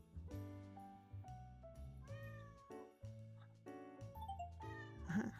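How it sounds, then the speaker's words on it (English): A cat meows repeatedly in a video game over a melodic musical background, several drawn-out calls in a row, clear and close. "Or if you hear the meow,"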